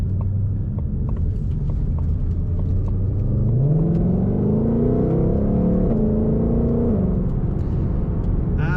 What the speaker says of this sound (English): Amazing acceleration in this car.